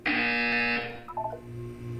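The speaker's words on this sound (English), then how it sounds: "You will hear a buzzer." Buzzer from the video game Portal 2, a single loud harsh electronic tone lasting under a second and then cutting off, followed by a short descending chime and a low hum, with no voices.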